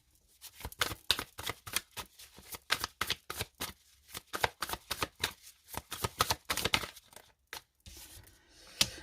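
Tarot cards are handled, shuffled and laid down one after another in a reading, producing a series of crisp close-up paper flicks and slaps in an irregular rhythm, with no voice over them.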